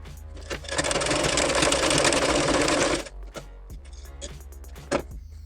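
A sewing machine stitching the back neck of a blouse runs in a steady whirring burst of about two seconds, then stops, followed by faint clicks and handling noises.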